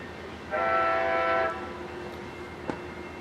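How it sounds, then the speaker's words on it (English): An Amtrak Coast Starlight passenger train passing through Moore Park sounds its horn in one loud, steady blast of about a second, heard at moderate distance over low rumbling track noise, with a brief sharp clank afterward. "here comes the Coast Starlight about to blow through Moore Park on its way to Seattle"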